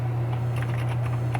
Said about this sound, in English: So let's type here equal to